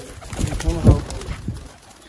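Blue Kamagar pigeons coo close by, a brief throaty rolling call rising and fading over a noisy yard, with someone speaking alongside.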